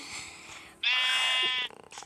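A sheep in the Minecraft video game gives one loud, close, quavering bleat lasting nearly a second, set against quieter game sounds with no talking.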